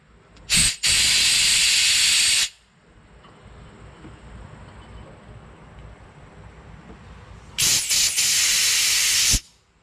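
Compressed air hisses loudly in two long bursts while cleaning out the fuel area of a walk-behind string trimmer, the first lasting about two seconds and the second near the end, with a quiet pause between them.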